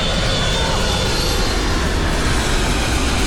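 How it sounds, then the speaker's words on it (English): A jet airplane passing low overhead near a Los Angeles airport landing area, a loud continuous broadband engine roar filling the whole clip. "the airplanes are going right past us"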